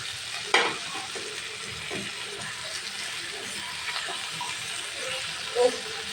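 Long beans and potatoes go into a hot pan of dried-fish curry and are stirred, a steady low sizzle with a sharp clatter near the start and another near the end, no voices.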